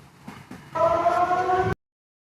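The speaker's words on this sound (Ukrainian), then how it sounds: "лунала повітряна тривога" A wailing air raid siren in Sevastopol, Crimea, rises in and holds steady for about a second before cutting off abruptly, preceded by a couple of faint knocks.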